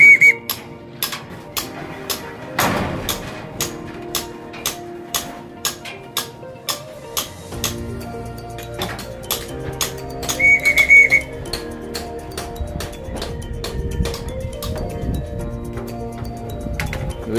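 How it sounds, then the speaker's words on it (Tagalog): A pigeon fancier calls racing pigeons home, blowing a whistle in a rapid series of sharp short blasts at close range, with clinking sounds and brief tonal calls mixed in. "Tatawagin natin sila gamit ang pito at pantawag."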